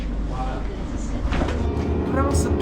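Steady rumble and rattle inside a moving train travelling from Paris to Bordeaux, continuous and fairly loud, with faint voices in the carriage.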